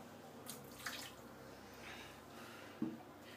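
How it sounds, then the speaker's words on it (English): Water from a shaving brush soak being dumped out into a sink, a few soft splashes and drips, quiet and close, with a sharper knock near the end. "let me dump the water out"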